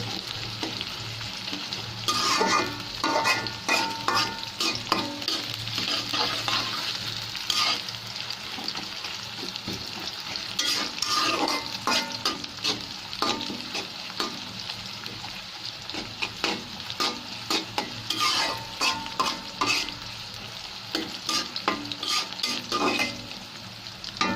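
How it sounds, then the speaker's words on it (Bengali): Chopped onion and garlic fry in a pan for a bottle-gourd greens dish, a close, continuous crackling sizzle broken by repeated bursts of spatula stirring and scraping against the metal, with no talk. "পেঁয়াজ আর রসুনটাকে আমি লাল লাল করে ভেজে নেব"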